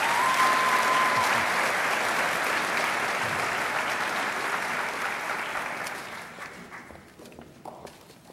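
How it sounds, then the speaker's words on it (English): Sustained audience applause at a junior high school eighth grade recognition ceremony, honoring two young athletes; dense, loud clapping fills the room, then gradually thins and fades toward the end. "One more round of applause for these fine young athletes."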